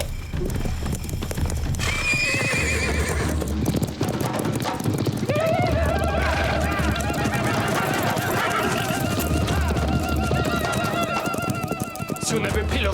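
Cartoon horses gallop and whinny in a chase, with dense hoofbeats and loud neighs running throughout under shouted dialogue and music.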